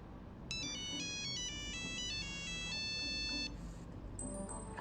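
A mobile phone ringtone plays a bright, repeating electronic melody for about three seconds, then stops, followed by faint beeps; quiet room tone underneath and no talking.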